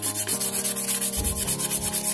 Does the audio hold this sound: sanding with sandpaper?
yes